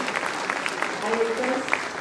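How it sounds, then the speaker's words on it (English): Parents and guests at a school gathering for UKG students clap after a Ramayana presentation, a short burst of applause with voices mixed in. "Clap."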